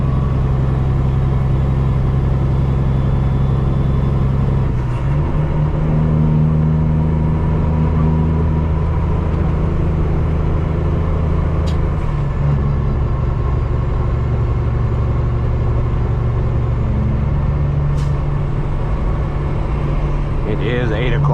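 A custom Peterbilt truck with straight pipes drives through San Antonio, Texas traffic, a loud, steady low exhaust rumble with a few shifts in pitch, continuing throughout.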